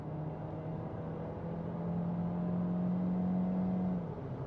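A Kia Niro hybrid's engine drones and strains at high revs while accelerating, pitch slowly climbing to about 5,000 rpm and holding loud and steady before easing off near the end.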